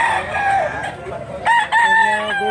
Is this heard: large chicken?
yes